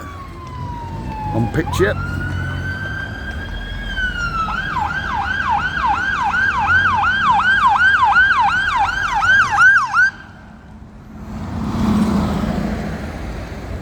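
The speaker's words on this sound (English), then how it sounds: "fire engine on its way" A fire engine siren on a busy Blackpool street wails loudly, then switches to a rapid repeating yelp as it passes close, cutting off abruptly. Traffic rumbles underneath.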